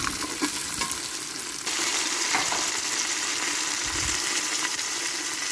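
Curry leaves and tomato fry in hot oil, a steady close sizzle with light stirring scrapes and a brief louder burst as more goes into the pan.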